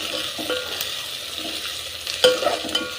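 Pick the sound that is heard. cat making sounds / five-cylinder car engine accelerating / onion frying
onion frying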